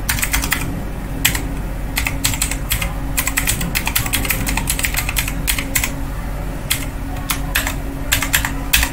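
A password is typed on a computer keyboard in quick, uneven bursts of close, crisp key clicks, continuing steadily with short pauses, no voices.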